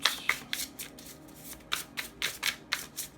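A deck of cards riffled and shuffled by hand close up, giving a rapid series of crisp papery bursts in an uneven rhythm, soft and with no talk.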